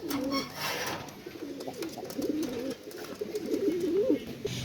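Aliwala pigeons and their chicks coo in soft, repeated rolling calls close by, with quiet background noise and occasional faint sounds between the coos.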